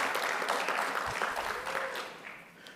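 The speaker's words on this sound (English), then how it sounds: "Another round of applause," Applause at a regional exporters awards ceremony in Southern Africa, a moderately loud crowd clapping steadily, then gradually thinning and fading toward the end.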